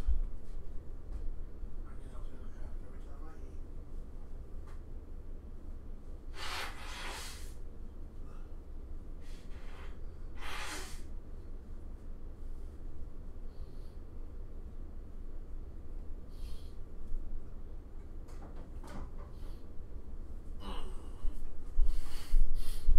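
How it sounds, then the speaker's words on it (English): A person blows their nose in two or three forceful, breathy bursts over a low, steady background hum, with softer snorts and breaths scattered between them. No talking is heard. "Oh, I gotta blow my nose."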